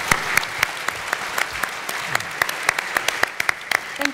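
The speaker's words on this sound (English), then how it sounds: "A big cheer of applause for them." Applause for panelists at a forest and green growth summit in Southeast Asia: a thin scatter of separate claps, moderately close and fairly steady, with a faint bed of room noise and no voices over it.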